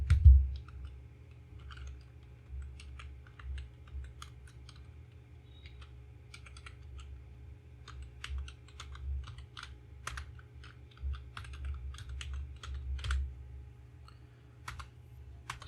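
An address is typed on a computer keyboard while setting up a company in Tally ERP 9, producing irregular bursts of quiet key clicks over a low background hum, with no talking.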